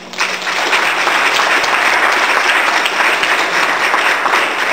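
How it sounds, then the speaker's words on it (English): A large crowd applauds at an MLK celebration event, a loud, sustained wash of clapping that swells quickly at the start and holds steady to the end. "This certainly deserves applause."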